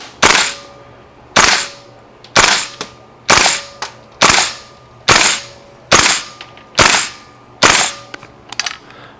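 A KWA LM4C gas blowback airsoft rifle fires single shots at an even pace of roughly one per second, each a sharp, loud, close crack with a short mechanical clack, about nine or ten in a row.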